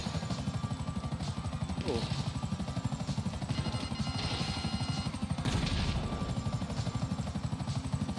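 Buzzard attack helicopter in GTA Online, its rotor giving a steady rapid chop throughout amid game noise, with some faint talk.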